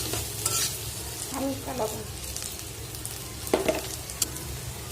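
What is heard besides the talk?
frying and stirring jackfruit seeds in an old wok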